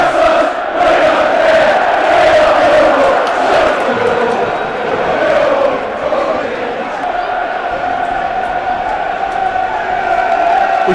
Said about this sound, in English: That's got the crowd going.